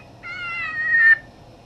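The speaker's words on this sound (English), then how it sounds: "let's start out with the cottontail and jackrabbit" An electronic predator call plays a cottontail and jackrabbit distress cry, a single high, wavering squeal lasting about a second over a quiet low background hum.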